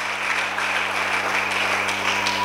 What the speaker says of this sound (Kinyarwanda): Reka twongere dukomere Imana amashyi menshi cyane.